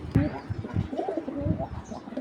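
Pigeons coo in low, throaty repeated bursts at close range, with soft chirps and faint background noise around them.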